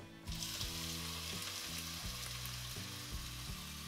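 Chopped onion fries in olive oil in a saucepan over moderate heat, a steady close sizzle with faint bubbling that starts abruptly and continues throughout, no talking.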